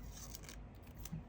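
Quiet scissors cutting paper stickers, a few short close snips and rasps with no talk.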